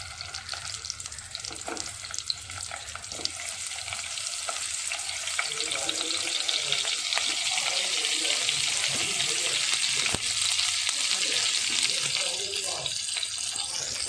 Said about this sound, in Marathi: तेल गरम झालं की त्यामध्ये जी वांगी आपण भरली होती सर्व अशी वांगी भरून घेतलेली आहेत ती ह्या तेलामध्ये सोडणार आहोत